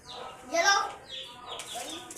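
Chicken clucking on a farm, a couple of drawn-out, close fowl calls over a soft background, with a person's voice also present.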